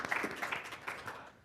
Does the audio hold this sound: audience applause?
yes